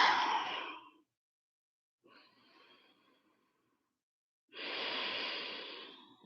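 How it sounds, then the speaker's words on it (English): Slow, audible ujjayi breaths during a beginner yoga flow: a long airy breath, a fainter one after a pause, then another strong drawn-out breath, each close and alone with no talk. "Ujjayi breath."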